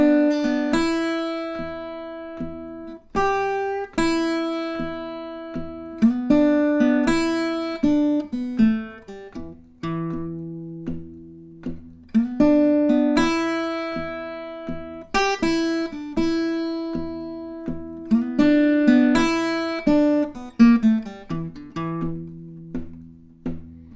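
A clean electric guitar plays bluesy phrases with quick triplet runs and sustained bends, solo and unaccompanied, notes ringing out between short pauses.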